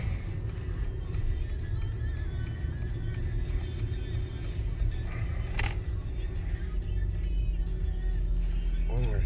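A 2005 Mercedes E55 AMG being driven back to a dealership, with a steady low engine and road rumble throughout, close and continuous, and a brief sharper noise near the middle.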